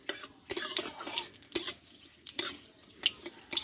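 Dried red chillies frying with black cumin in a pan for a radish greens dish, with soft sizzling under sharp intermittent clinks and scrapes of a spatula stirring against the metal pan.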